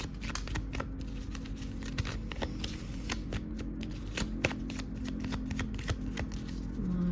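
Tarot cards being shuffled up close, a steady run of crisp riffling flutters and soft slaps repeating for several seconds with a low room hum beneath.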